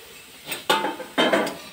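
Sliced ridge gourd and potato go into a pan of lightly fried panch phoron, two sharp clattering drops with a brief hiss and scrape of a utensil against the pan, close and clear.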